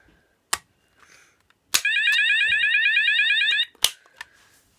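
A KAC new-style fire alarm call point is tested: sharp clicks, then a steady, loud warbling electronic alarm tone for about two seconds before it cuts off with another click, in a quiet room.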